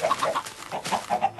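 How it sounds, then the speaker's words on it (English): Minecraft chickens clucking in a game farm, a run of short, bright repeated clucks in quick succession, fairly close and with no talk over them. "Everybody gets a baby chicken."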